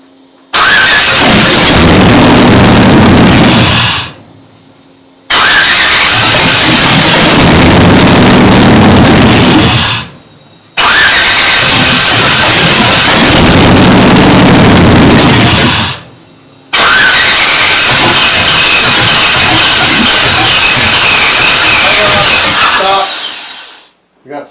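A Chevrolet Camaro engine fires for the first time, roaring loudly in four long runs split by short silences before the last run dies away.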